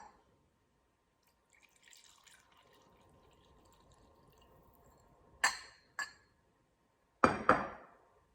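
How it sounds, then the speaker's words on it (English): Whiskey trickles faintly from a glass decanter with a rolled rim, then a few sharp glass clinks and drips ring out close by in an otherwise quiet room. "because of this rolled rim, it allows for a smooth pouring"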